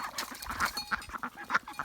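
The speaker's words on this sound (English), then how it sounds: "the duckies are just having a little wrestle this morning" Several ducks squabble at a farmyard watering spot on a snowy winter morning, giving repeated short nasal quacks in an irregular, close, moderately loud run.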